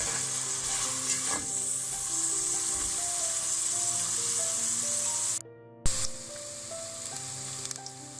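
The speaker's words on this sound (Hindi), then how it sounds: "दो से 3 मिनट तक हम प्याज फ्राई करेंगे" Onions fry, sizzling and crackling steadily in a hot pan with occasional stirring scrapes; background music plays softly underneath, and the sizzle briefly drops out near the end.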